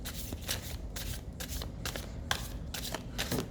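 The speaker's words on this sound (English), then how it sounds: "So my first shuffle is just cleaning the cards" Tarot cards are shuffled in a steady series of soft, close riffling bursts, each a brief papery flutter repeating roughly every half second, with no talking.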